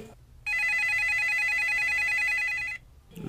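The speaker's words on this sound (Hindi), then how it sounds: "तेरा कने फोन आ गो" A telephone rings with a steady, bright trilling electronic ring, loud and close, lasting about two seconds before cutting off abruptly, with quiet background around it.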